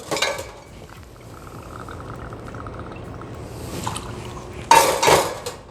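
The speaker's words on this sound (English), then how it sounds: "This is gonna continue for every single speed pour, all right, including this plastic one." Liquor poured through a plastic speed pourer into a metal jigger, a thin steady trickle running for several seconds, with clinks of glass and metal at the start and end, no talking.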